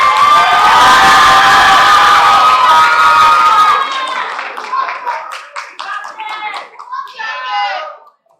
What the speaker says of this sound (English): keep that applause going for our final poet, Yulissa Iniguez